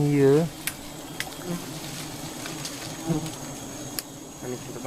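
Giant honey bees buzz around a low-built nest in the forest, a steady insect drone under scattered clicks and knocks, opened by a brief loud tonal burst at the start.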